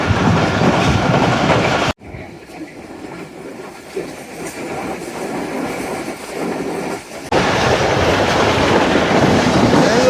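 Pak Business Express train rushing past Gambar railway station, loud continuous rail roar and clickety-clack, abruptly muffled for several seconds in the middle before the full roar returns.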